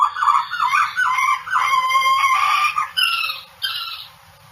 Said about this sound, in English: So just a few calls that aren't what we think of normally as being owl calls.